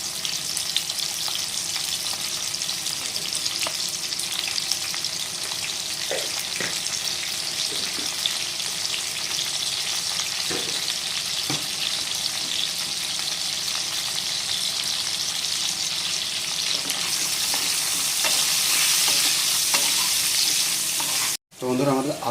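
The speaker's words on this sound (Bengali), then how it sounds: "ভেজে নেব আলুগুলো।" Potatoes seasoned with salt and turmeric fry in hot oil in a pan, giving a steady, close sizzle throughout with occasional stirring clicks, growing slightly brighter and louder near the end.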